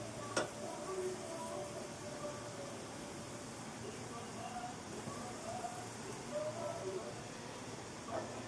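Garlic cloves fry in hot oil for a tempering, producing a faint, continuous sizzle with light stirring. A voice talks quietly over it.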